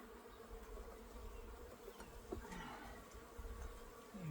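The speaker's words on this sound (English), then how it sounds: "I'm just shaking all the bees off from the top box so that they can go down and live where they're supposed to live." Honey bees buzzing steadily and faintly in a continuous hum as they are shaken off the top hive box during a colony merge, with no voices heard.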